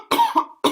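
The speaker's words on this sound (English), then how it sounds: "I'm starting coughing again" A man coughs three times in quick, loud, close bursts, the third cough landing after a brief gap.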